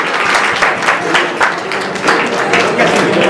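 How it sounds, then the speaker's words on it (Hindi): Loud audience applause greeting the guest of honour, a district council president, at a youth parliament event in Chamba, with dense, steady clapping throughout and a few voices mixed in. "जोरदार तालियां बजती रहनी चाहिए।"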